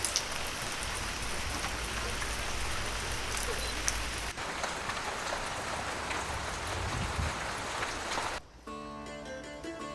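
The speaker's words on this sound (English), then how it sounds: "and then it started to rain" Steady rain falls along a tree-lined riverside walk, a dense continuous hiss of drops on leaves and ground that cuts out abruptly near the end, leaving quieter sheltered ambience.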